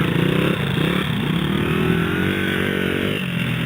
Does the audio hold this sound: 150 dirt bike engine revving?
yes